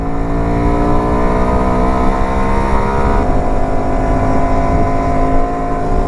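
A Honda Varadero 125 motorcycle engine pulls uphill with a loud, steady droning whine close to the rider, pitch holding and shifting slightly midway, wind noise mixed in, no talking.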